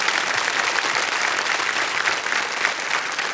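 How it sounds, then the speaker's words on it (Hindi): Studio audience applauding loudly and steadily on the set of the Indian quiz show KBC, a dense even wash of clapping throughout with no talk. "एक बार जोरदार तालियां फिर से बज जाए इनके लिए"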